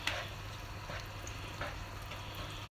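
Tomato sauce bubbling and simmering in a pot, a steady close hiss with soft pops and a low rumble underneath, continuous and even throughout, cutting off abruptly at the end.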